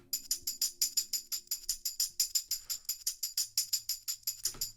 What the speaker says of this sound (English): I bring in a tambourine loop.